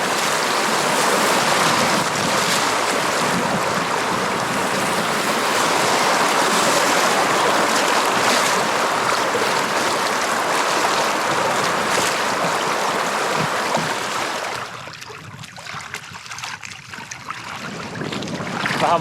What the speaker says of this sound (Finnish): Kuuluu tossa mutkan takaa toi Vähäkurkkion kohina jo.